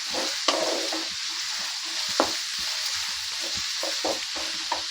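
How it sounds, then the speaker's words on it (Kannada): Semolina poured into hot oil for avarekalu uppittu sizzles close by, with a steady frying hiss broken by several sharp scraping stirs of a spoon against the pan, and no voices. "ಎಣ್ಣೆ ಕಾದಿದೆ. ಅದು ನೋಡಿ, ರವೆ ಹಾಕ್ತಾಯಿದ್ದೀನಿ."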